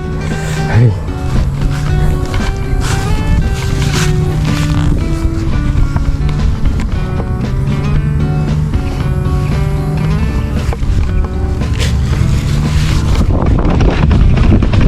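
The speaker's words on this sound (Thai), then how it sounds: "ลมมา ลมมา ลมมา ลมมา ลมจงมา" Strong wind roars steadily against the microphone while flying a kite in the rainy season, loud and buffeting throughout, with tonal droning and a voice briefly audible beneath it.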